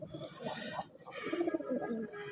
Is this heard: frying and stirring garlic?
no